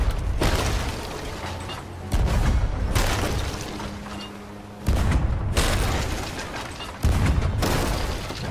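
Cannon blasts in Sea of Thieves: four heavy booms at roughly two-second intervals, each a loud, broad burst that decays into rumbling noise, with no talk.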